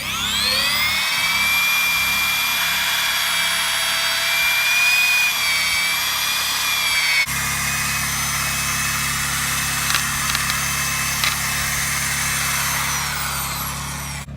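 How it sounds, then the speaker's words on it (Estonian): A power drill bores a hole into a living linden tree in a park alley, whining loudly and steadily close by, then changing pitch midway as the bit cuts deeper, with no talk. "lihtsalt puurime talle augu kehasse"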